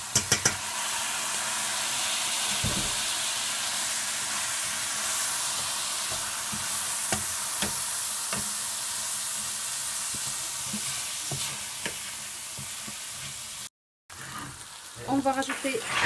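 Washed long-grain rice stirred and fried in a pan with golden-browned peppers, a continuous sizzle broken by repeated scraping stirs, with a brief gap near the end followed by louder clatter.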